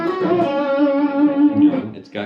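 A sustained electric guitar chord on the bridge pickup rings through a 50-watt amplifier with a bright, slightly distorted, honky tone, then decays as another note is picked at the end.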